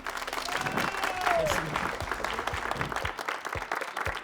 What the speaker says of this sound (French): Applaudissements pour Akil, mesdames et messieurs, émerveillez-nous avec ce Magic Show.